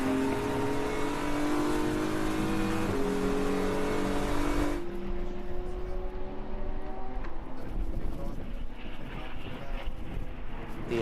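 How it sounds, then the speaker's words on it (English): A BMW M4 GT3 race car engine howls at full throttle during an endurance race at Brno, climbing through the gears with a sharp shift, then trailing off into a more distant drone of other cars on track. "The M4 BMW, the current generation of the GT3 car that the Munich-based car maker makes and builds"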